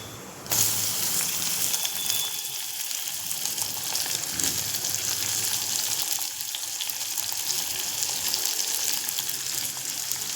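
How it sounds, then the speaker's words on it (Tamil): Cumin seeds and onion fry in hot oil for potato and capsicum sabzi, a steady dense sizzle running throughout at close range with no voices. "இந்த சீரகம் நல்லா பொரியுது."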